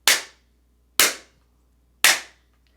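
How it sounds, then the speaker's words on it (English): Three sharp metallic whacks of a wire whacker tool flattening jewellery wire ring out about a second apart, each loud and crisp with a quick decay into silence. "So I'm really just whacking it, like it says, it's a wire whacker tool."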